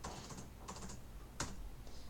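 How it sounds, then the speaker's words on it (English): Quiet typing on a computer keyboard, a few short clusters of key clicks separated by pauses, close but soft, with no speech. "we click and the text box opens and we can start typing with our cursor"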